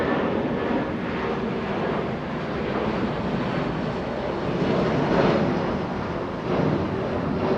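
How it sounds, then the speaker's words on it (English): A rare freighter jet lands on the north arrival at Los Angeles International Airport, a steady broadband engine rumble with wind buffeting, heard at a distance and holding constant throughout. "An incredibly rare freighter making a north arrival as well."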